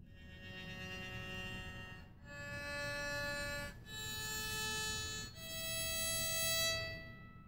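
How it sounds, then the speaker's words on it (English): Cecilio electric violin played unamplified with its heaviest practice mute: four sustained bowed notes in a row, soft and thin, each held for about one to two seconds, with brief gaps between them. "this is the sound of the electric violin with zero volume and the heaviest mute I have"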